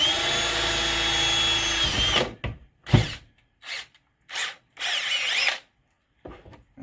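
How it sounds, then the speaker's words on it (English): A power drill bores a hole through a pump cover for a hand dredge, a long steady whine followed by several short, loud trigger bursts separated by brief silences as the bit breaks through. "And there she is drilled out."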